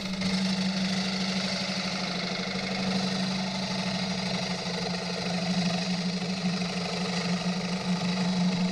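A wood lathe hums steadily while a sharpened gouge cuts a punky maple bowl, a continuous droning whir with a faint rasping texture of the cut, constant and close.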